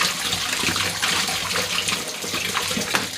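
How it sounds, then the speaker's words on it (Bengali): Pumpkin leaves are washed under running water, a steady, close splashing and gushing stream that continues without break. "কুমড়ো শাকগুলোকেও ভালো করে ধুয়ে নিলাম।"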